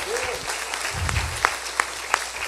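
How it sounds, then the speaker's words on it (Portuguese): Congregation applause during a church service after a closing prayer: a continuous wash of clapping from many people, with a low voice murmuring briefly and a few sharper individual claps standing out near the end. "Aplaude ele, aplaude."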